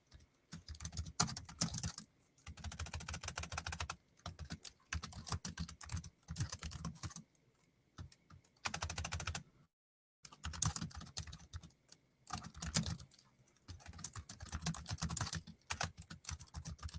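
Fingers type on a computer keyboard in quick bursts of close, crisp key clicks, separated by short silent pauses, with no talk.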